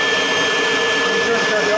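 A Kirby vacuum cleaner running at full power, a loud, steady motor roar and airy whine with a constant high tone, close and unbroken.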